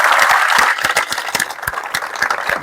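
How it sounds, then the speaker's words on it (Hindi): Loud applause for the parents of army recruits in India, a dense burst of clapping that thins into distinct individual claps. "तो इनके लिए जोरदार तालियां।"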